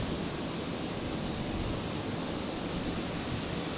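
A dark Embraer jet at Brisbane Airport gives off a steady, loud, unbroken roar of engine noise with an even broadband rush and a thin high whine, with no voices.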